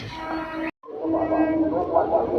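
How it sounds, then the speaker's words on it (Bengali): Lakshmikantapur local train pulling into Garia station, a loud steady rumble and rolling clatter with a brief cutout, then the mixed din of the approaching train and platform noise continuing. "আমরা যে ট্রেনটা উঠবো লক্ষ্মীকান্তপুর লোকাল, এখন সেটা আসছে গড়িয়া স্টেশনে।"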